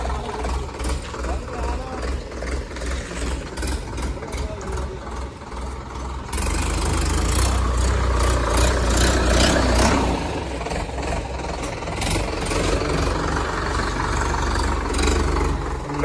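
A Swaraj 855 tractor engine idles steadily with a low, continuous diesel rumble, close by, getting slightly louder partway through as a voice talks over it.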